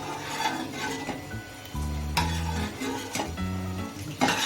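A spoon stirs tomato soup with ginger and mint in a pot, giving soft scraping swirls and a few sharp clinks against the metal, close and moderately loud with no voices.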